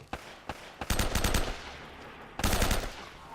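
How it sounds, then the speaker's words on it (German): Rapid bursts of automatic gunfire in the video game Uncharted, a few single shots then a long rattling volley, a pause, and another burst, loud and close with no talk. "Ich höre, dass geschossen wird"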